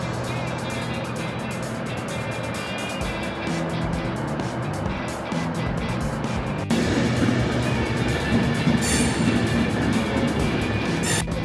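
An Avanti West Coast passenger train rumbles along steadily from Carlisle toward Edinburgh Waverley, with rhythmic wheel noise and a rising roar as it gathers pace; no talking.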